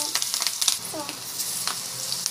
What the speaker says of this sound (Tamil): இப்போ வந்து பார்த்தீங்கன்னா முருங்கைக்கீரை பக்கோடா வந்து போட்டுக்கலாம்.